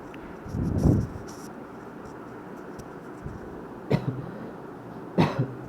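A person with a cold gives a single cough early on, then two more isolated coughs several seconds apart, moderately close against a quiet background hiss.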